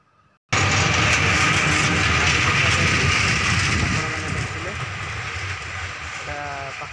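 A train runs past on a railway line near Barsanga, a loud steady rumble with wheel clatter that fades gradually toward the end, while a voice talks over it.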